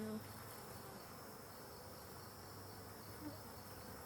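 A dense, steady hum of many honey bees droning together at a hive, soft but continuous, with no voices.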